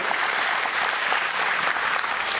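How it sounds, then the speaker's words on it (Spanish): A church congregation applauds in a thick, even burst of clapping, loud and continuous throughout the short stretch. "dale fuerte el aplauso al Señor"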